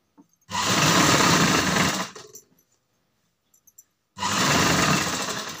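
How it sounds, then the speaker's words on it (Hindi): Sewing machine stitching along the neckline of a box-style frock, running in two loud, close, steady bursts separated by a pause of near silence. "इस तरह से हमने ऊपर से सिलाई डाल देनी है एक आराम से"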